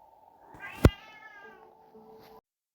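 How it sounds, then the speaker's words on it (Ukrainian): A house cat gives a single loud, drawn-out meow that rises then fades, standing alone against a quiet background. "О, мій кіт прийшов."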